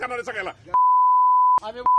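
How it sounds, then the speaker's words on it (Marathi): A loud, steady electronic censor beep cuts in over speech, holding for nearly a second, then returns briefly after more talk. "त्या शिव्यांना बीप लावायचे असतात ना"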